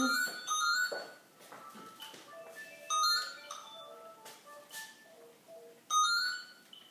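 A phone ringtone plays a bright, chiming melody that repeats in loud bursts about every three seconds, with softer tones and faint background noise between them.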